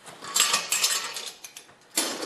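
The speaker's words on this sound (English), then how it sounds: "I'm going to take the clamp off." A metal clamp is removed from a tack-welded steel cart frame, giving a short flurry of bright metallic clinks and scrapes up close, ending with a final sharp clank.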